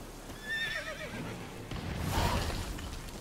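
Roach, the horse in The Witcher 3, lets out a loud, wavering whinny, followed by a rougher snort and shuffling hoof noise in the game.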